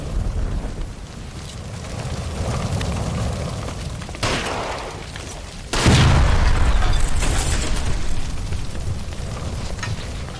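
A gas line explodes in L.A. Noire with a sudden loud boom at about six seconds and a rumbling low roar that carries on after it, following a smaller burst earlier. Wind-like noise runs underneath the whole time.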